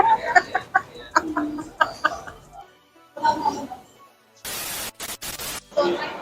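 A person imitates a rooster crowing, a few voiced bursts mixed in with chatter, followed by loud static-like hiss near the end.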